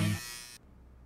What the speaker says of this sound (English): Shave, style, groom. Philips Norelco.